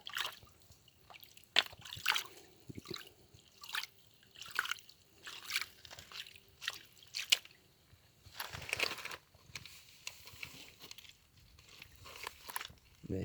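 Hand-swirled stream water sloshing in a gold pan, with irregular trickles, drips and splashes close by, interspersed with gritty scraping of gravel.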